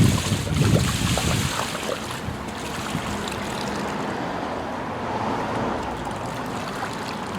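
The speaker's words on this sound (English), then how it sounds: "While the pump is running, it's going to keep gushing." Water gushing steadily from a running pool pump into a swimming pool, a continuous broadband rush that starts slightly louder and then holds even, with no talk.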